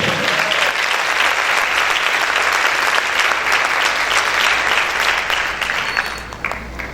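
A church congregation claps loudly and continuously, with dense, sustained applause that fills the room and then tapers off in the last second.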